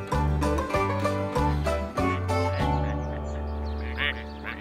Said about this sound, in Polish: Kaczki dostają jeść co rano, Star.